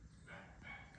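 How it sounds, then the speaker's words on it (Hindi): A dog barks briefly in the morning near a tall building in Noida, sounding faint and somewhat distant against a low background rumble. "कुत्ता इस टाइम पे कुत्ता भौंक रहा है"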